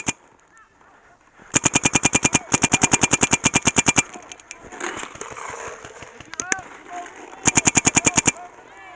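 Paintball marker fired in rapid bursts during a paintball game on mounds, with three long volleys of quick, sharp pops near the mic, broken by scuffling, movement noise and a brief voice in the gaps.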